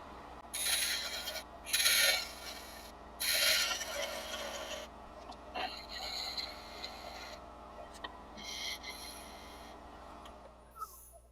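Rough flattening strokes on a wooden birdcage awl handle before a tenon is cut, a few loud bursts of rasping or sawing with pauses between them, then lighter, scattered scraping.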